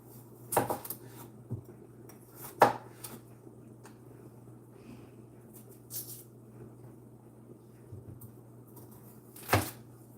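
A knife cutting up soup ingredients on a board, a few sparse, sharp knocks and clicks spread seconds apart against a quiet kitchen hum.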